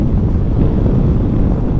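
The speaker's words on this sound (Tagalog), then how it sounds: "Medyo gumagalaw tayo sa hangin, pero kayang-kaya ng motor." Steady, heavy wind roaring and buffeting against the microphone while riding a Kymco Xciting VS 400 scooter on an expressway, a constant low rumble with no voices.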